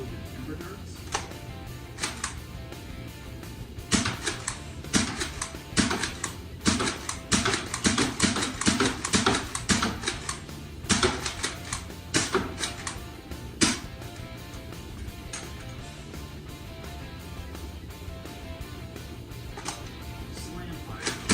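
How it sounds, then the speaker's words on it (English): A Dart Zone Nexus Pro X foam dart blaster fires Ember Darts in a run of sharp mechanical clacks, some spaced, others bunched into rapid bursts, close and fairly loud. "let's move to the firing demo. Starting off with Ember Darts."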